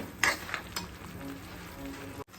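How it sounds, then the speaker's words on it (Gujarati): Semolina (rava) roasting in ghee in a pan gives a soft, steady sizzle, with a few sharper scraping stirs near the start and a brief drop to near-silence at the end. "રવો છે એને અંદર શેકાવા દેવાનો છે કે એકદમ આપણને એમ લાગે કે હવે ઘી છૂટું પડવા માંડે છે"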